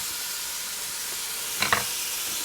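A pound and a half of ground beef sizzles in a Ninja Foodi as a soft continuous hiss, with a brief louder burst of crackle near the end and no talking.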